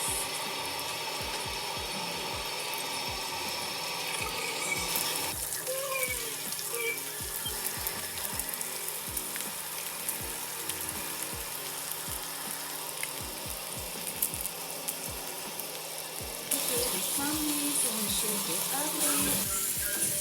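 A steak sears fat side down, standing upright in a hot pan. The sizzle and crackle run steadily throughout, with clicks and pops scattered on top.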